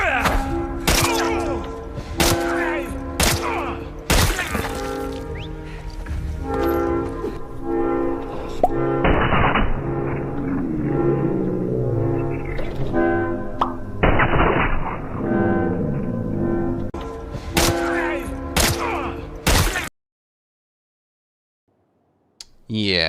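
Gunfire in the shooter No Return, with a leg shot followed by a headshot: loud, close shots in irregular bursts layered over a sustained tonal game soundtrack, ending in sudden silence.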